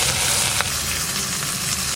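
Whole garam masala, peppercorns, bay leaves and onion frying in hot mustard oil in a wok, giving a loud, continuous close-up sizzle and crackle with a couple of brief sharper pops.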